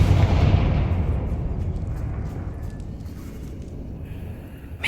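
A Confringo fire spell explodes in Hogwarts Legacy, a loud, close blast whose broad roar slowly fades into a long rumbling tail over several seconds.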